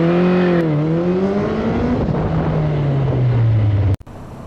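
A motorcycle engine revs hard close by, its pitch climbing and then sliding down as the engine winds out, loud and continuous before cutting off abruptly near the end.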